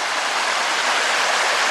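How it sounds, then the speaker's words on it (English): Steady broadband rush of a small creek spilling over a little waterfall on a hike along the Rhine, loud, close and continuous with no voices. "that creek would be great. There's a little waterfall"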